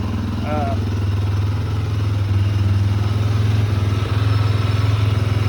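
A Honda 400EX ATV engine idling after sitting unused, a steady low single-cylinder putter with a slight uneven pulse, close and continuous, with a brief voice early on.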